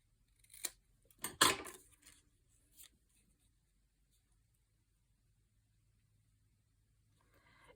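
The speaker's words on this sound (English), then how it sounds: "So I'm going to cut this off just a little bit down at the bottom." Scissors cutting paper for a mini album, a few close crisp snips in quick succession, then near silence.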